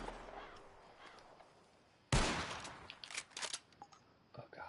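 A sharp gunshot in Red Dead Redemption 2 cracks out suddenly after quiet ambience, followed by a few quieter scattered reports and rattling clicks, with no talking.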